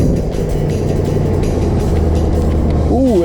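A 2017 Holden Commodore SS-V Redline V8 runs steadily at close range, a loud continuous low rumble throughout with a brief rising tone near the end.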